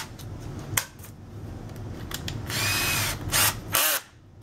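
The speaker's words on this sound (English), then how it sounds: "this is just to put a pilot hole in" A power drill bores a pilot hole into a horse bow kit, with a steady whine broken into a few loud bursts of drilling at close range and brief pauses between them.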